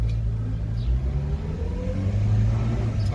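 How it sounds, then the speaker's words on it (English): A Subaru Sambar hicab's engine warms up at idle, giving a steady, close, low rumble that holds evenly throughout with no voices. "Hope you can see the engine's warming up."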